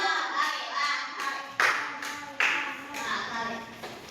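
A group of children clap together during a classroom name-guessing game, giving bursts of fairly even hand claps with a couple of sharper louder claps and faint voices beneath.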